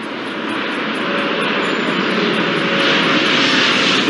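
Jet airliner engine roar in the Airport Madness 4 air traffic control game, a steady broadband rumble-whine that holds loud and constant, swelling slightly toward the end, with no talk over it.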